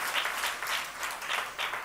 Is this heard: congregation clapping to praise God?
yes